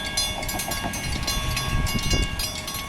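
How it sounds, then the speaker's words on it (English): A TransWA passenger train departs a station and rolls past a level crossing, a loud, continuous rumble and rattle of wheels and carriages heard close by with no one talking. "I'm just going to run down to the crossing now to get the departing shot of the train."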